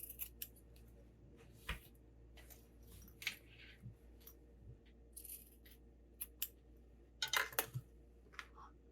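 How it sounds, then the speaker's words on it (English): Scissors snip excess fabric while sewing a sling bag, a string of light, crisp cuts at an irregular pace, close and quiet with no talking. "Trim off the extra."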